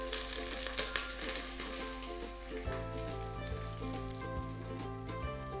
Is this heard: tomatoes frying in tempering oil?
yes